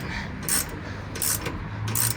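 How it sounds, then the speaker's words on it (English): Ratcheting wrench clicks as a bolt is tightened on a Kei truck, three short bursts of close, crisp ratchet clicking spaced evenly over about two seconds. "Skylar had these wrenches with the ends that tighten just by ratcheting"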